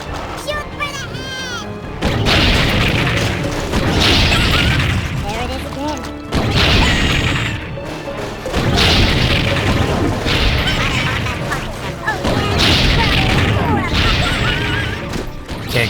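Repeated heavy explosions in the video game Raze's Hell, a series of loud booming blasts with crashing debris, each burst rolling out over several seconds, with a voice speaking in places.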